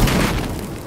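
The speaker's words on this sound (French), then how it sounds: "Attention, grenade!" A grenade blast in the video game Battlefield Hardline, a single loud, close boom with a heavy low thud that fades over under a second.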